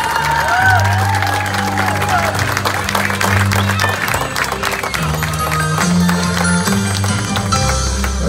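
Loud applause and cheering from a crowd at a quinceañera party, clapping sustained over strong, steady dance music with deep bass notes throughout.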